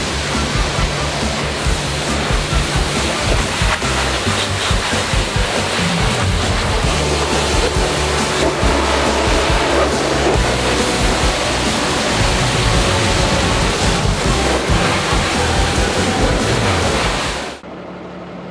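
A Kärcher pressure washer sprays hot water set to 90 degrees, a loud, continuous close-up hiss and roar of water jetting steadily for about seventeen seconds before cutting off abruptly.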